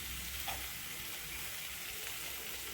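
Curry leaves and ginger fry in a pan for a potato masala, giving a constant soft sizzle with a faint bubbling texture, heard close and steady without speech.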